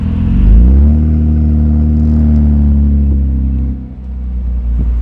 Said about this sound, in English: it sounds like a car with no mufflers